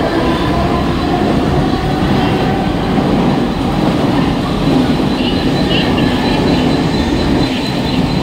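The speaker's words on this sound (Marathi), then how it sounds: "एक जलद गाड़ी जाने वाली है" A Mumbai local fast train thunders past the platform with a loud, continuous rumble and wheel rattle that holds steady throughout, with no voices.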